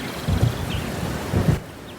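Cartoon thunderstorm with steady heavy rain and deep rolling thunder rumbles swelling twice, loud and close, with no voices.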